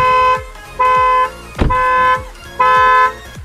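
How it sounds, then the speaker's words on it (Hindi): Kia Sonet anti-theft alarm sounding after the car is opened with the key, loud repeated horn-like beeps in a steady on-off rhythm, close by, with a brief thump between beeps. "तो ये जब तक हम इसको लॉक नहीं करेंगे ये हमारा बीप करती रहेगी"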